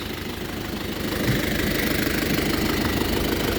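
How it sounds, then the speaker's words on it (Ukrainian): A Bulat 454 tractor's diesel engine idles close by, a steady low rumbling chug with a knocking rhythm, running continuously with no voices. "Запустив двигун."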